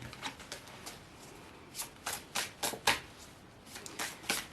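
A deck of tarot cards is shuffled up close, giving quick bursts of papery riffling and flicking in an uneven rhythm, quiet and alone.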